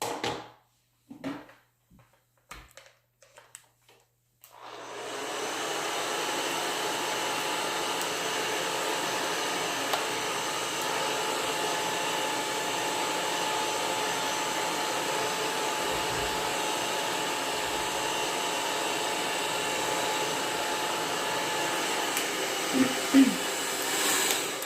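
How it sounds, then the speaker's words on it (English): A hair dryer blows steadily on a human hair topper or wig, a continuous close whoosh that starts after a few seconds of light handling noises and runs unbroken to the end. "I just blow dry it in place."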